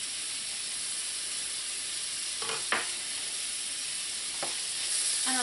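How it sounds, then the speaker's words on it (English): Chopped onions and hot pepper sizzling in hot oil, a steady, fairly quiet hiss running throughout, with a few brief utensil clinks and a small burst of crackle near the end. "once your oil is nice and hot, you want to add your chopped onions. And your chopped hot pepper."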